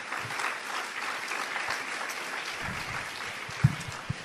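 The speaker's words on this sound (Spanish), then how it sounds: "Dele un aplauso fuerte." Church congregation in Mexico giving loud applause during a sermon, a steady crowd of clapping that carries on for several seconds with a few sharper claps near the end.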